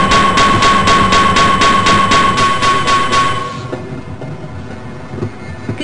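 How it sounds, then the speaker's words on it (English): Train in the game Half-Life: Azure Sheep engaging and starting to move, with a loud rhythmic clatter and a steady high tone that drop into a lower, rumbling roll as it pulls away. "Press your use key to engage the train."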